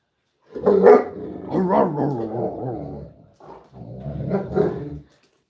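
A dog barks and whimpers at close range in a burst of loud yips and barks, with a short pause before a second round.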